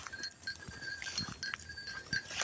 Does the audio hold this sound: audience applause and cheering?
no